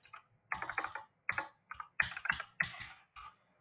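Keys clatter on a computer keyboard in quick bursts of clicks, several short runs of typing separated by brief pauses, close and fairly quiet with no voices.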